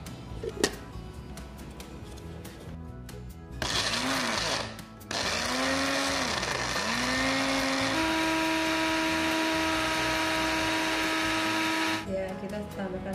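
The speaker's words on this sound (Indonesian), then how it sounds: "ini daging ayam yang sudah kita blender" Blender grinds chicken meat for chicken pempek, a loud whirring motor that starts, dips and restarts, then holds a steady whine for several seconds before cutting off, with a few clicks and handling noises around it.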